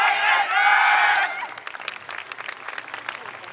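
A crowd at a YOSAKOI dance festival main stage cheers loudly, then the noise settles into scattered, rhythmic clapping and lighter applause that carries on to the end.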